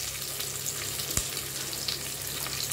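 Chopped onions frying in oil in a Tamil kitchen give a soft, steady sizzle with light crackles and one brief clatter midway, fairly quiet and close.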